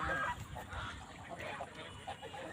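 Domestic geese raised in a rural village give honking calls, with a louder burst at the start and then scattered nearer and farther honks over steady outdoor background noise.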